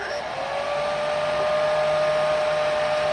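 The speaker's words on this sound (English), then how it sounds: "Just give it a little quick blow dry now" A heat gun drying ink on a mixed media card gives a steady close whooshing blow with a faint whining motor tone. It runs unbroken throughout, with no talking.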